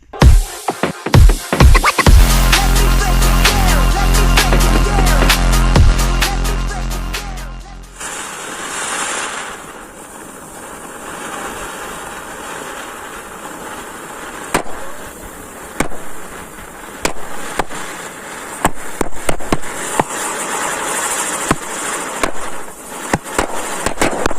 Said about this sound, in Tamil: நம்ம இன்னொரு சக்கரத்தை சுற்ற விடலாம் என்ன நடக்குன்னு பார்க்குறோம் அங்கே பற்ற வைக்கலாம்